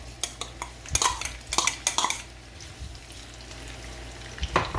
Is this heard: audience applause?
no